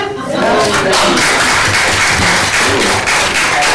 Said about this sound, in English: join me in a round of applause for Brenda